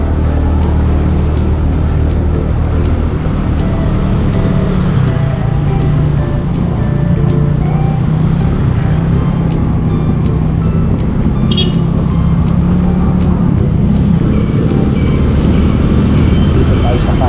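A motorcycle rides through road traffic, with a continuous low engine rumble and rushing wind noise throughout, surrounded by passing vehicles and the hum of a busy roadway.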